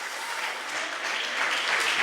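A church congregation claps in sustained applause, a dense crackling wash that grows slightly louder toward the end, with faint voices mixed in.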